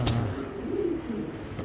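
A male racing pigeon coos in a low, warbling call that runs through most of the moment, close by and fairly loud, with a short sharp noise at the start and another at the end.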